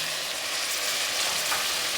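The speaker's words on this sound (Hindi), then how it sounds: "अब मैं इसके अंदर टमाटर और सब्ज़ मिर्च डालूँगी" Tomatoes and green chillies sizzle in hot oil with garlic-ginger paste, a steady, loud, close frying hiss that continues without a break.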